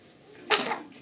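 Small child gives a single short sneeze, close and sudden, a bright burst that quickly fades in a quiet indoor room.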